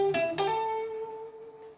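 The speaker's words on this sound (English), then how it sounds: "Now, if you don't have overdrive, you might have a sound like this" An electric guitar is played clean with no overdrive or distortion: two quick plucked notes that ring and sustain softly, close and quiet, with no talk.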